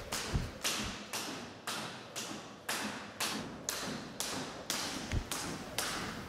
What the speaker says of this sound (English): We're going to jump rope for 30 seconds.